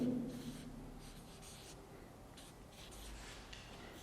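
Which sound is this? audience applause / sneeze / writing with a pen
writing with a pen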